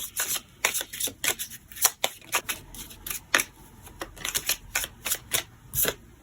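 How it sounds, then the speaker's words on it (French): Tarot cards being cut and shuffled for a reading, a close run of crisp riffling bursts and sharp slaps with short pauses in between, with nobody talking. "on va démarrer par une petite coupe et ensuite nous irons tirer 9 cartes"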